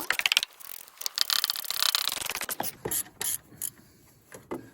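A ratchet wrench tightens a bolt on a Toyota Camry: a quick burst of close, loud clicking at first, then a few shorter, scattered runs of clicks with pauses between.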